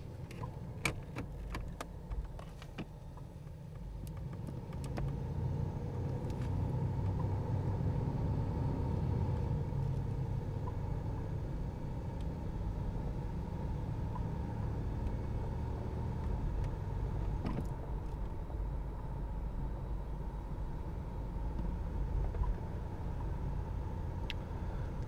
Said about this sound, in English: Okay, we're gonna go for a quick drive.